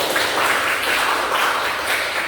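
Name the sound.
classroom applause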